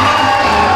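A wrestling crowd cheers and whoops for SWA Pride Heavyweight Champion Pancakes, a loud, dense, steady roar of voices that fills the whole moment without a break.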